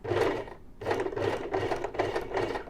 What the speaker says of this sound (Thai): เย็บนอกเส้นประมาณหนึ่งมิล